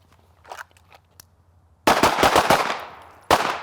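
Several handgun shots fired at a target during a holster draw drill, a dense cluster of sharp reports in quick succession followed by one more loud shot after a short gap, preceded by faint quieter clicks.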